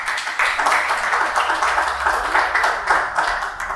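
Audience applause at an academic introductory session for a public management program, with steady, dense clapping sustained throughout at moderate loudness and no talk over it.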